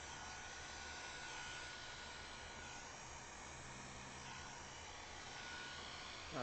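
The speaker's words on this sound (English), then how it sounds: "This is my Conair hair dryer." A steady, breathy motor whir with broadband airflow noise from a Conair hair dryer on a low setting, blowing alcohol inks, constant and moderately close.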